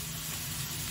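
Home-roasted peanuts dropped into hot oil give a short, even, close sizzling hiss lasting about a second, with no speech.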